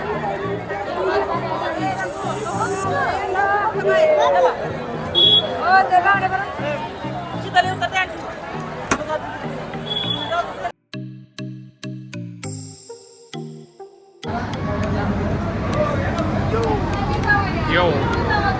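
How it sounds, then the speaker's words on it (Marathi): A packed crowd mills at a temple's main entrance, steady loud chatter and babble of many voices, broken by a brief quieter stretch with chiming tones before the hubbub returns. "इथं तुम्ही बघू शकता जाम गर्दी"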